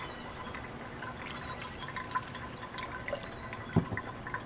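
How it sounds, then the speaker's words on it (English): Hot water is poured over gold in a filter funnel during refining, giving faint, quiet trickling and scattered drips with one sharper splash near the end, set against low background hum. "So now I'm going to put some hot water on this stuff."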